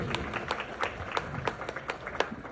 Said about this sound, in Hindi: एक बार जोरदार तालियां बजाए भाई साहब के लिए।